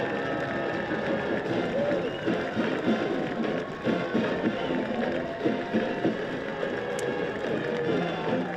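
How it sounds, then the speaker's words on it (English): A football crowd roars as the Bentonville Tigers take the field for a state semifinal, a steady wash of cheering with a marching band playing beneath a commentator's voice. "You can hear the crowd tonight as the Bentonville Tigers take the field in the state semifinal game."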